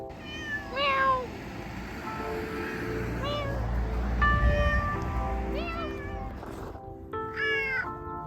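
A house cat meows repeatedly, several clear drawn-out calls spaced across the stretch, close and distinct over a soft steady background hum.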